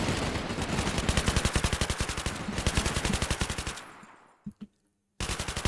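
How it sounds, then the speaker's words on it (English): Rapid automatic gunfire from the video game Cepheus Protocol hammers out in loud, evenly spaced bursts, breaking off into a couple of isolated shots and brief silence before the firing resumes. "Very loud gunfire"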